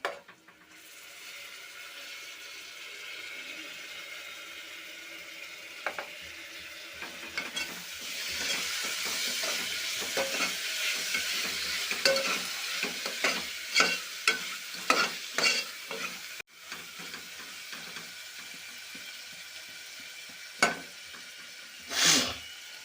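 Mint and coriander leaves sizzle and fry in a pan while being stirred, with steady hissing and repeated scraping strokes of a spoon, close and loud, no voices.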